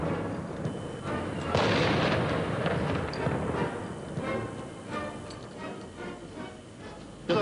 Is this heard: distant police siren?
no